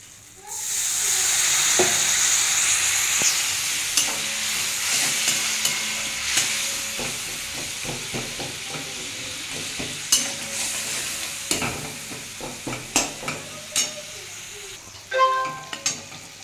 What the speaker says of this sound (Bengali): সব দিয়ে বন্ধুরা একটু কষিয়ে নেবো এটাকে।